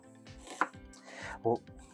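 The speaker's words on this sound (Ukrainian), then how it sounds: "Цибулю я не нарізаю надто дрібно, а на такі на четверть кільця можна." A knife chops onion into quarter rings on a board, a few sharp close cuts with quiet gaps between them.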